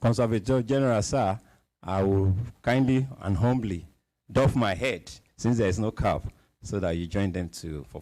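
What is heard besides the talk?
No everyday noise stands out behind the speech.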